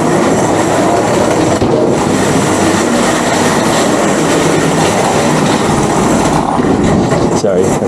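Big 50-pound commercial washing machines run in a laundromat, a loud, steady mechanical rumble and whir that fills the room without pause, with faint speech at times underneath.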